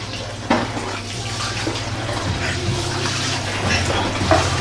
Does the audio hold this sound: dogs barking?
no